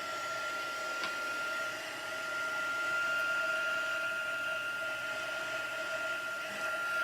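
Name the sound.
embossing heat tool running on setting 2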